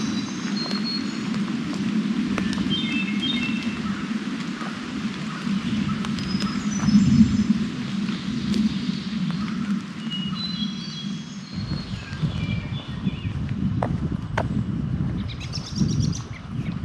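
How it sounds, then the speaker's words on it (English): Birds sing in a cool, rainy forest along the Black Forest Trail, with scattered chirps and short trilling calls over a soft, steady background of rain and low rumble. "Listen to the birds"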